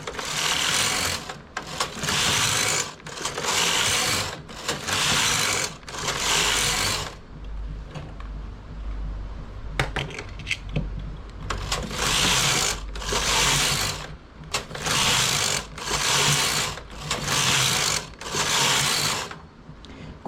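Machine knitting with industrial yarn at tension setting 7: the carriage of a knitting machine whirs across in repeated back-and-forth passes of about a second each, loud and rhythmic, with a quiet pause in the middle.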